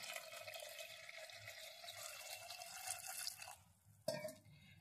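Water is poured into a pressure cooker over pieces of raw turmeric, a quiet, continuous trickling splash that thins out and stops, followed by a short clunk. Close and faint, with no voices.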